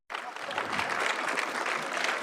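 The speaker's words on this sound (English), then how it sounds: "Can we please give her one more round of applause?" A live audience at a City of Toronto National Poetry Month event claps in dense, steady applause that starts abruptly and carries on evenly.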